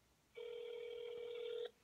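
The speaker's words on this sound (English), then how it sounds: "Let's call RJ's phone. Let's keep it on speaker" A single steady electronic ring tone sounds once over a phone on speakerphone, alone against a quiet background.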